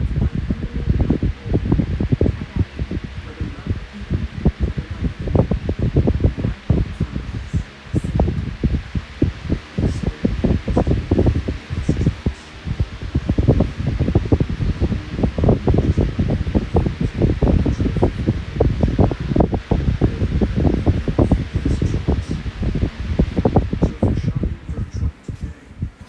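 A Ken Brown High Velocity Fan runs with its blades being balanced, giving a steady whooshing airflow with an irregular fluttering rustle and soft thumps throughout, moderately loud and continuous with no voices.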